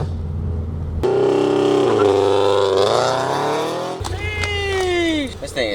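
A 2022 Toyota GR86/BRZ fitted with a full aftermarket exhaust revs loudly and up close, the engine note climbing and dropping through several sustained pulls, with a sharp burst at the end.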